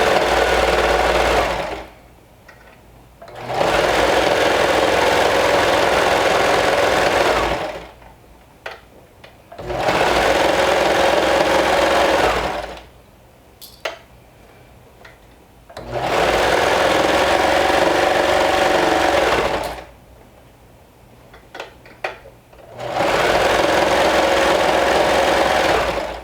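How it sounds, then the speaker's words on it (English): Sewing machine stitching through layers of fabric in four long, steady runs separated by short pauses, loud and close with no talk. "going to double check that I sew all layers"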